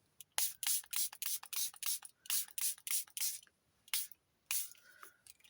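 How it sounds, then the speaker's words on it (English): A spray can of silver paint is aimed at an acrylic painting in about a dozen short, close hissing bursts separated by brief pauses, each burst lasting well under a second. "This is a bit of silver. This is acrylics. Right, okay, bit of silver. Let me spray it."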